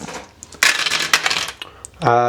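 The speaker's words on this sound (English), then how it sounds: "I guess we're going to throw 6 dice into" Six dice rolled during a tabletop Marvel Crisis Protocol game, a sudden clattering burst of dice tumbling and rattling on a hard surface for about a second, settling with a few last knocks before a voice starts.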